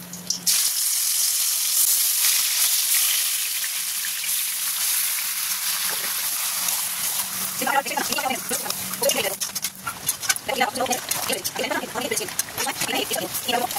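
Chicken pieces with whole garam masala fry in hot oil, a loud, steady sizzle up close that turns into crackling, spattering bursts, with someone talking over it part of the way.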